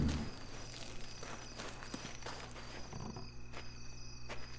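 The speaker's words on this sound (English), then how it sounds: "I hear the footsteps though" Footsteps in the stealth shooter game Sniper Elite 3, set at a fort: a steady run of soft steps over a constant ambient hum, with a few sharper clicks, at moderate level and no talk.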